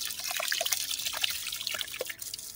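Cold water used to soak dried daylily leaves trickles and drips softly nearby, with small splashes scattered unevenly through the sound.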